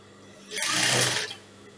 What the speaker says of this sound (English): i'm going to start stitching it down to how i want want it to be